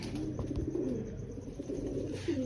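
Low, throaty pigeon coos repeat steadily over a murmuring background, fairly close and moderately loud.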